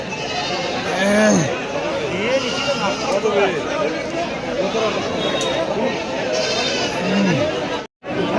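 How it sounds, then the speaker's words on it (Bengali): Sheep and goats bleat repeatedly at a busy livestock market in Dakshin Dinajpur, with several wavering calls near and far over constant crowd chatter, and someone talks over the scene. "এগুলো ভেড়া হয় এগুলো সব হালুয়া"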